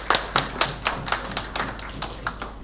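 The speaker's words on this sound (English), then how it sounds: "Give them a round of applause, please." A small group claps sparsely, about a dozen distinct, slightly uneven claps in quick succession, fairly faint and close, like a modest live-stream audience.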